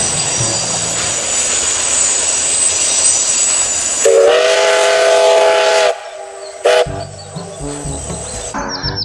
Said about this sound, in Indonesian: Di sini ada kereta Thomas.